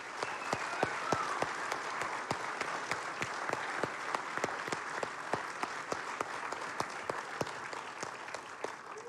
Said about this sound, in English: a round of applause for all he does for the association and foundation